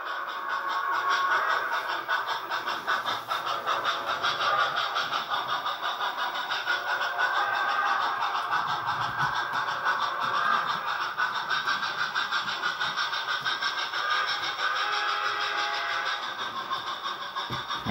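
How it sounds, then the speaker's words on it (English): A model railroad locomotive runs steadily on a home layout, giving a continuous mid-pitched motor whir and hum that holds at an even level throughout with no voices. "Do love this engine when it's running."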